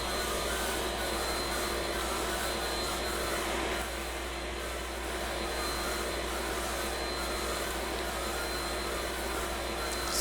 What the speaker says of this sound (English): I'm gonna let it cut until all the wood is either out of the mill or glitched.